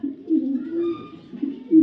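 A racing pigeon of a foreign bloodline coos close by in a few low, throaty phrases, with a short pause before a final coo.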